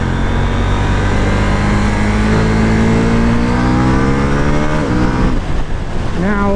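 A KTM 790 Duke motorcycle engine pulls hard on a highway, loud and close throughout, its rising engine tone climbing steadily through the gears with brief dips at shifts near the end.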